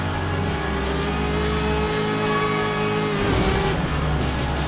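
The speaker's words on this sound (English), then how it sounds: "I will race like my life depends on it." Race cars in the video game ESPN Sports Connection, a loud steady synthesized engine drone with shifting pitch as the cars speed along, continuous and close with no voices.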